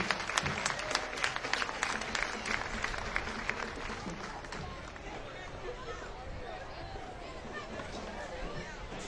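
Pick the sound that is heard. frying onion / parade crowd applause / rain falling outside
parade crowd applause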